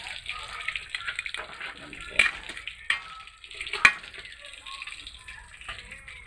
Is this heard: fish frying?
yes